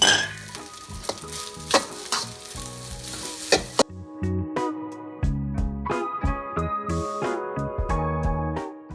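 Egg fried rice sizzling loudly in a hot pan as a utensil stirs and scrapes it, with irregular clanks and bursts of frying that pause briefly then resume.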